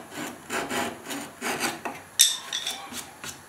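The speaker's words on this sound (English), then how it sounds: "take your flush trim saw." Flush trim saw rasping back and forth through a glued wooden dowel rod on a firewood box build, a steady series of close scratchy strokes with one brief sharp click partway through.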